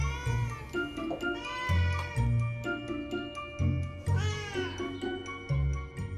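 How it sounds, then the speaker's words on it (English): A domestic cat meows repeatedly, a run of distinct, close, fairly loud meows with rising and falling pitch and short pauses between calls, and no voices. "every cat's meows are unique"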